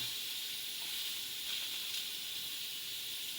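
Butter sizzles with scallops browning in a hot pan, giving a steady, fairly quiet hiss that runs unbroken throughout.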